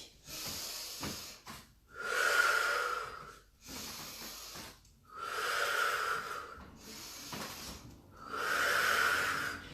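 Heavy rhythmic breathing during a lunge workout, three long loud exhale bursts roughly every three seconds with quieter inhales between, close and alone without talk.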